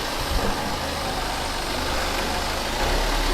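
Car engine revving as it reverses uphill into a parking slot, a steady, moderate engine drone with a slight low rumble, running evenly without voices.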